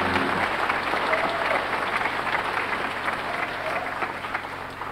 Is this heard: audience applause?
yes